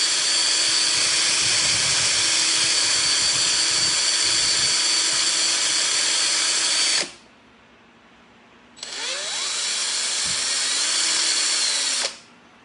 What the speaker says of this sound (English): This particular epoxy mixes pretty fast compared to this other epoxy that I'm going to show you for all of the color variations.